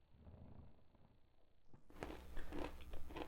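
Crunchy orange, apple and cranberry granola is bitten and chewed up close, with crisp crunches growing louder toward the end over faint background noise.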